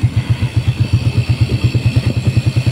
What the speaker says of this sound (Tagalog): Pero in-start niya yung motor niya.